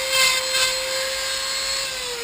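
A Dremel rotary tool whines steadily at high speed while carving Bamagillia tree bark, with a constant close tone and no voices.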